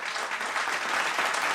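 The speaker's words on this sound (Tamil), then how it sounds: "தயவு செய்து நன்றாக கைத்தட்டலாம்" An audience at a Tamil public speech claps steadily, with a full, close wash of applause that lasts throughout.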